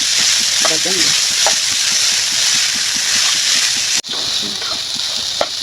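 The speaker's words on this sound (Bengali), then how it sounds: "ভালোভাবে চালটা ভেজে নিলাম" Rice and lentils, with browned onion, fry in a pan for khichuri, making a constant sizzle with soft stirring scrapes at a regular pace. A voice speaks intermittently over the cooking.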